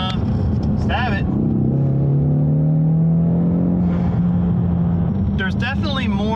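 A Ford Mustang accelerates hard in fourth gear, its engine note rising in a loud sustained pull from inside the car while a person talks over it.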